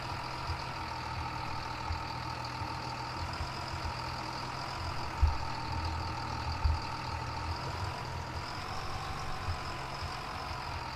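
Steady idling tractor engine from a farming video game, a low, even mechanical drone with a couple of brief louder thumps partway through, heard alone without voices.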